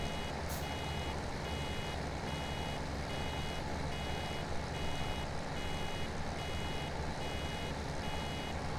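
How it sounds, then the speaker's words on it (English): A mower in the Farming Simulator 17 video game gives steady, evenly spaced warning beeps that it is full, repeating faintly over a constant engine drone. "This thing beeps at you thinking it's full way too early."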